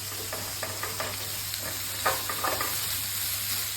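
Peppers, onion and fresh tomatoes for shakshuka sizzle steadily in a pan, a constant close hiss with soft scraping stirs now and then and a low hum underneath, and nobody talking.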